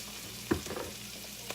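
Corned beef frying in a pan, giving a steady close hiss and crackle of sizzling with a couple of small pops or stirring knocks, no speech.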